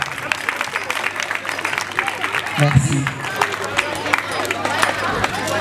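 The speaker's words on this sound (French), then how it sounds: "Applaudissez, M. Sarr." Applause and crowd hubbub at an official ceremony as director general M. Sarr is called up, with clapping mixed into chatter and a voice speaking briefly over it.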